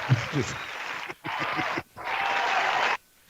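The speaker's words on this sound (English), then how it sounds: "I want to clap for you" Hands clap in two dense bursts during a podcast chat, each lasting about a second, following a short stretch of talking and then stopping abruptly.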